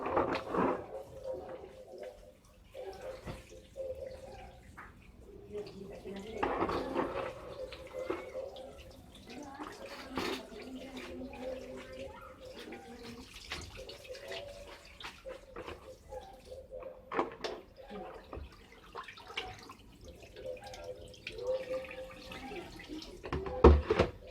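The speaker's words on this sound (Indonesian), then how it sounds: "Terakhir kita bilas." Food being rinsed in a basin of water while preparing mie ayam, with sloshing and splashing water in irregular bursts close by, plus occasional drips and a faint voice in the background.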